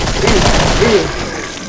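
Rapid gunfire crackles in the Killing Floor video game, a dense burst of shots over a rumbling low end, loud and close, with a voice talking over it.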